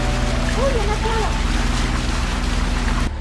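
Engine of a catamaran under way on open sea between Martinique and Guadeloupe, a steady loud low drone with constant hum and wind-and-water wash, a few faint whistling tones over it early on.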